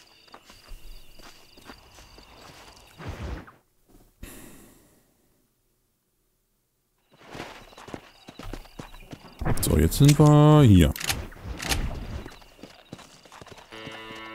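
Hooves clip-clop steadily on the ground as a horse walks in the Red Dead Redemption video game, set in New Austin, mixed with game ambience while someone talks in German.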